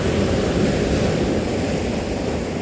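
Surf from ocean waves rolls continuously onto a coastal beach, a dense, even roar mixed with wind, close and unbroken.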